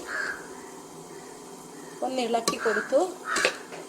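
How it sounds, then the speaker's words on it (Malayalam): A utensil scrapes and knocks against a pan while chili and coriander powder are stirred for a chicken curry, giving a few close metallic clinks and scrapes over a low background hiss. "മുളക് പൊടിയുടെയും മല്ലിപ്പൊടിയുടെയും കളറൊക്കെ മാറി വരുന്നത് വരെ ഒന്ന് ഇളക്കി കൊടുത്തു"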